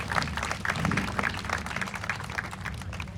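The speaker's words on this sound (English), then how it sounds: "Please join me in a big round of applause for Coach Basil." Audience applause at a graduation-style celebration honoring a coach and athlete, a steady patter of clapping hands with a low murmur of voices underneath, moderately distant.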